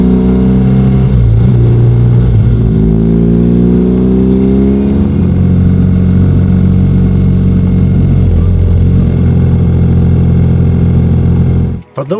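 BMW R90S motorcycle engine, loud and close, revving up and down in rising and falling sweeps before settling into a steady drone, with a voice talking over it throughout.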